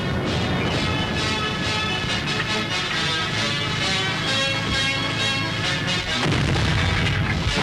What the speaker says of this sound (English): South African artillery, having been informed of the position of the enemy patrol, goes into action from its well-concealed position